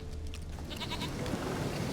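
A goat bleats in The Witcher 3: Wild Hunt, a few short nasal bleats rising briefly over a steady low ambient rumble, moderately close, with no talking.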